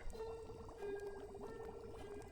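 Liquid potion base, heated beforehand, is poured in a quiet, close trickle with a thin sustained tone, brief and soft, with no voices.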